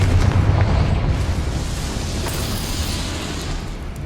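The Confringo fire spell in the Hogwarts Legacy video game goes off as a loud, rumbling blast whose heavy low boom fades gradually over a few seconds.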